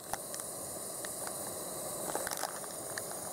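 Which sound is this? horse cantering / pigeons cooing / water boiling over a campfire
water boiling over a campfire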